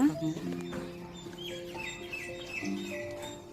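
Sparrows chirp and tweet near a spot where food has been set out, short high calls scattered over a low hum with faint background talk.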